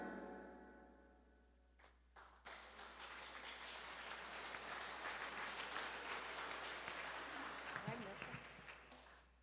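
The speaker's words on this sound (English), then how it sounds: "how about we clap by grade?" A school spring concert audience claps for freshmen choir and band students, the applause starting after a brief spoken pause and swelling into sustained, moderately distant clapping before tapering.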